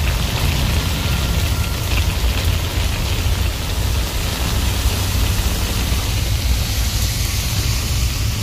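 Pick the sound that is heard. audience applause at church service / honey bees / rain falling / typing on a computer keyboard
rain falling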